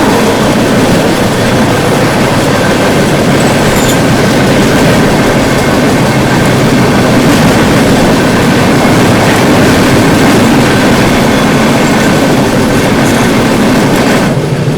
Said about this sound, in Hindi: दोस्तों सामने से आ रही है आप लोगों की गोरखपुर से चलकर एलटीटी की ओर जाने वाली काशी एक्सप्रेस